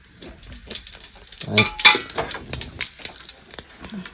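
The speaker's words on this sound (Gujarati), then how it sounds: "મમરા વઘારવાની કામ ચાલુ છે." Puffed rice (mamra) being tempered in a hot pan gives off a soft, crackling sizzle, broken by scraping stirs and a few light metallic clinks, close and fairly quiet with no one talking.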